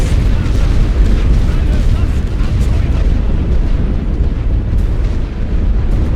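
A heavy, unbroken rumble of high-explosive artillery shells bursting in a World War I game set on the Western Front, loud and dense like a sustained barrage with no clear gaps.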